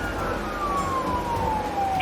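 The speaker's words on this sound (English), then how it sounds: "When the lights and sirens came on, Nelson's choice was clear." A police car siren wails during a high-speed chase, a single descending tone sweeping over steady road and engine rumble, loud and close.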